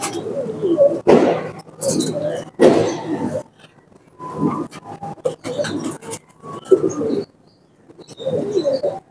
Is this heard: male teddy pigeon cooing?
yes